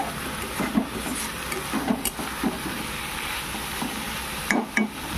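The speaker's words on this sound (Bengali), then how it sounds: "আমার মূলাগুলিও কষানো হয়ে গেছে, ভালো করে ভেজে নিয়েছি" Radish pieces frying in hot oil for a fish curry, a steady close sizzle broken by several sharp scrapes and clinks of a spatula stirring against the pan.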